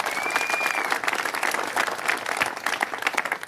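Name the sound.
audience applause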